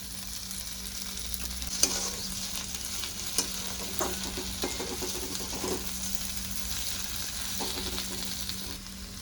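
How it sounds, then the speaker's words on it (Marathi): Stuffed okra (bharli bhindi) cooks under a lid in a pan over low heat. It gives a steady, soft sizzle with a few faint clicks and no talking. "भेंडी मंद आचेवर झाकण ठेवून शिजून घेऊया"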